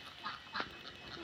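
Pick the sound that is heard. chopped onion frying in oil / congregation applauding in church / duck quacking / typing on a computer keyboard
duck quacking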